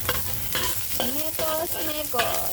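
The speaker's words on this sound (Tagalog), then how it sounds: "Una nating gigisahin ay ang bawang at sibuyas." Garlic and onion sauté in a hot pan as a constant loud sizzle, with repeated scraping and stirring strokes of a utensil against the pan roughly every half second.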